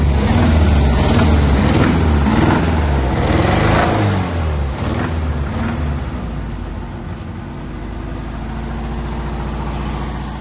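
A Chevette car engine runs steadily on gasoline after stabilizing, a loud, continuous idle with a low rumble that holds fairly even throughout.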